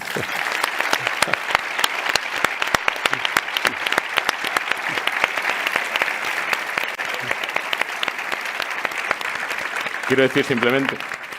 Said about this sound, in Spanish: vamos a considerar que estará el aplauso de Antonio, pediremos otra para las ponentes también